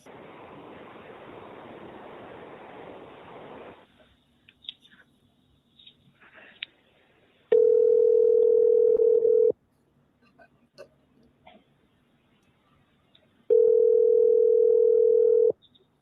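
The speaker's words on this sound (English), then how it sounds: "And now they're going to call Tricia." A steady telephone dial tone sounds in two loud, even stretches of about two seconds each, separated by quiet gaps, with a murmur of background noise at the start.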